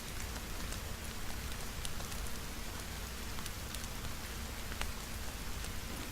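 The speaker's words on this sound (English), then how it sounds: "It rains a lot." Steady rain falls through a forest in a video game, a soft, even hiss of drops on leaves and ground with occasional louder pattering, continuous and fairly faint with no voices.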